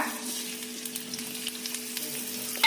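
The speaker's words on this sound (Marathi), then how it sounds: "4 चम्मच तेल टाकलं। त्याच्यात जाईल आता कांदा।" Chopped onion sizzling in a few spoonfuls of hot oil, a steady, close crackling fry with light stirring and a faint electrical hum underneath, no voices.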